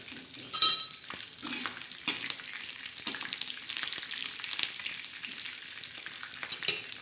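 Curry leaves fry in a hot pan with poha preparation nearby, a close, crackling sizzle with sharp pops at the start and near the end, settling into a softer steady fry in between.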